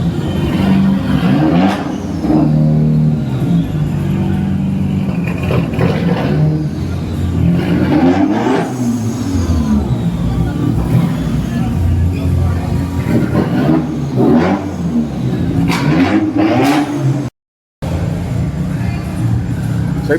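Modified car engines rev loud and continuous in an echoing basement parking garage at a car show, with rising and falling roars, a brief cut near the end and voices talking underneath.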